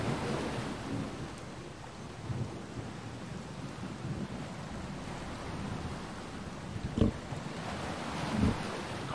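Rain falls in a video game, a steady soft wash of drops with low rumbling and a couple of brief thuds, heard alone without talk.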